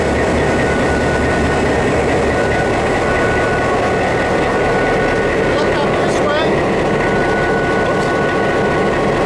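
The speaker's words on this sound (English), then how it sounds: "This is a 567. It's a 16-cylinder engine." EMD 567 16-cylinder diesel engine with Roots blowers running inside an FP9 locomotive, a loud steady low rumble and drone filling the space, with someone speaking briefly over it.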